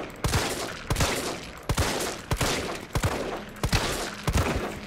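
Shotgun blasts in Resident Evil 3 gameplay, around a dozen sharp loud reports in uneven bursts under constant game noise, no talk.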